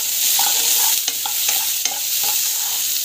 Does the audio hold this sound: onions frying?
yes